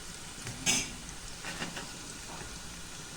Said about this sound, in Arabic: دي البصلة خلاص أنا بتحمر خلاص